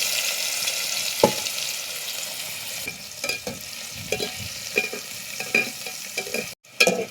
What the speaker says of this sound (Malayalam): കോളിഫ്ലവർ ഒന്ന് ഫ്രൈ ആക്കിയിട്ട് എടുക്കണം.